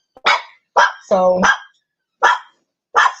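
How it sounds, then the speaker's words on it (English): A dog barks five times in short, sharp bursts close by indoors, with gaps of silence between the barks and a single spoken word in the middle. "sorry about the dog"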